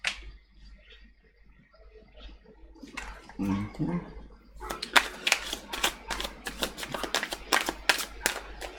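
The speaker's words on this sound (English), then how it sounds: "I always shuffle again during the actual reading" A deck of tarot cards is shuffled during a reading: a few soft handling sounds at first, then a long run of quick, crisp riffling bursts close by, with a brief voice partway through.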